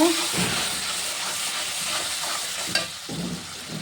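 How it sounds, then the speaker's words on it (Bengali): Tomato paste and ground cashew paste frying in a pan for Bengali brinjal kalia, giving a steady close sizzle and hiss with light stirring scrapes throughout, and no talk. "পেস্ট করা টমেটো দিয়ে দেবো। টমেটোটা ভালো করে কষে নেব।"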